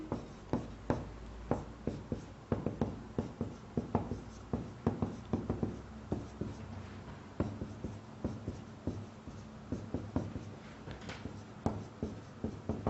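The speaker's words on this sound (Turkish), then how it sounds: "Hatta yazayım." Marker or chalk strokes on a classroom board, a steady run of short scratchy writing taps and squeaks close by, with no talk over them.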